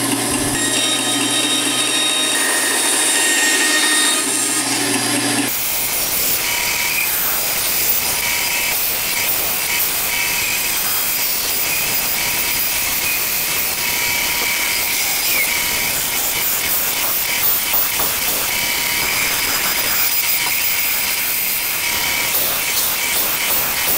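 A power tool cuts a metal blade-bait lure shape from sheet metal, making a continuous harsh, hissing grind that runs steadily and loudly for about twenty seconds after a short quieter lead-in.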